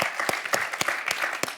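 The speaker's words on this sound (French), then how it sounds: "Marcella, on va vous applaudir" A studio audience at a quiz-show face-off applauds a contestant in a short, close burst of claps with distinct individual hand strikes.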